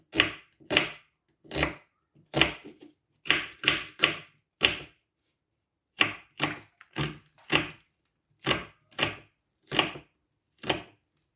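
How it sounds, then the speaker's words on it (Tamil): Knife chopping onions into small pieces on a board, a steady series of sharp close thuds in quick bursts with one brief pause midway, no talk. "முதல்ல வெங்காயத்தை வெட்டுவேன். குட்டி குட்டியாக வெட்டணும்."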